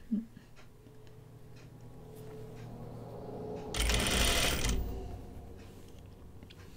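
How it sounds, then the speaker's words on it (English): A sewing machine stitches a fold line on a tunic, a steady mechanical run that swells louder midway for about a second before easing off, with faint handling noises around it. "sewing a fold line"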